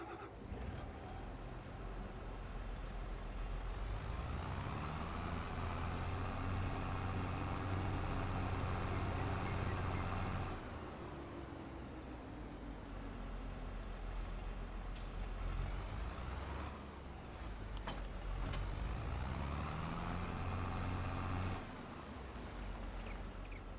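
A New Holland tractor in Farming Simulator 22 drives and hitches up to a trailer: a loud, steady engine drone with rising and falling revs, broken by sharp air-brake hisses, with no talking.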